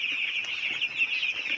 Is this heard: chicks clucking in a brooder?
yes